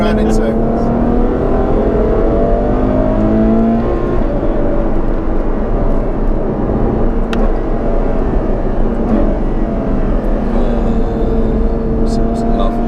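A Ferrari F12 TDF's engine roars loud and steady under hard acceleration, a sustained high-pitched howl with rising tones, heard from inside the car.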